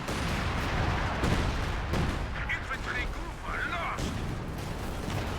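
Panzer Warfare artillery barrage in the Company of Heroes 2 strategy game, with heavy booming impacts and crackling blasts amid ongoing battle noise, while a commentator talks over it.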